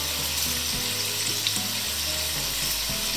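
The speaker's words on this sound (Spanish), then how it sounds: "hemos puesto el aceite en nuestra sartén y vamos a echar láminas de ajo para que se nos doren" Sliced garlic frying in oil in a frying pan gives a steady, even sizzle that holds at moderate loudness, continuous and without speech.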